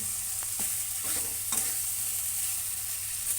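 Rohu fish fries in a spice masala in a pan, a close, steady sizzle with a few scraping stirs early on and no talking.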